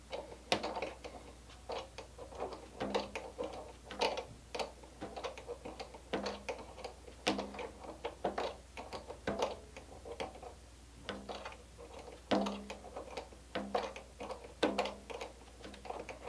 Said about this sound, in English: You need a, a ratcheting wrench for these.